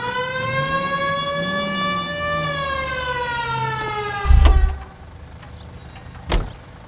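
Police car siren in a video game set in 1940s Los Angeles, a loud rising and falling wail close by, cut off abruptly with a thump and followed by a brief sharp knock.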